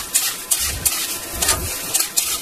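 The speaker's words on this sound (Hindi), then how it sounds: "इसमें डालेंगे दो मुठी इसको फटाक से चलाएंगे" Flattened rice (chura) frying in hot oil in a pan while being stirred briskly, close crackling sizzle with rhythmic scraping strokes of the spoon about every half second.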